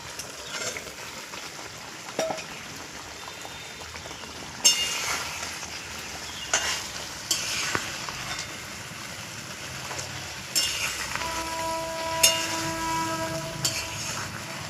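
Cauliflower goes into spiced oil in a pan with a soft, uneven sizzle, broken by several sharp clatters and scrapes of a utensil.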